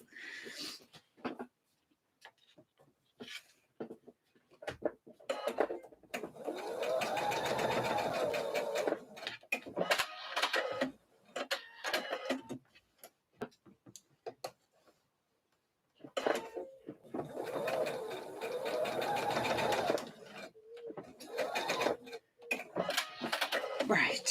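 A sewing machine stitches a slip dress in two long, steady runs of rapid whirring, broken by pauses, clicks and handling noises, while someone talks between the runs.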